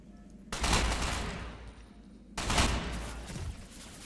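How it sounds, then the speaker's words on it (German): Two loud bursts of rapid automatic gunfire in the shooter game Ghost Recon Phantoms, each lasting over a second with a lingering tail, close and alone with no talking. "Schießt da jemand auf mich?"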